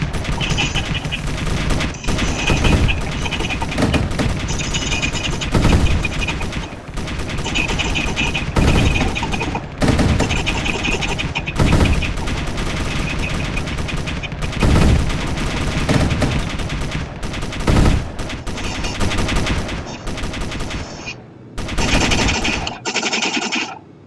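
Broadside gunfire from a warship in Space Engineers, a loud, sustained barrage of rapid repeated shots and booms in dense bursts, with a few short pauses and a brief lull near the end.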